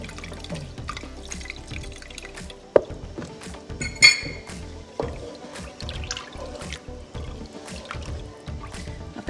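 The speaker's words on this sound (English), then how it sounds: "pour it onto the spoon and it helps prevent too much splattering" Broth is poured over a spoon into a soup pot, giving a steady close trickle and splash with scattered drips and a couple of light clinks, without talk.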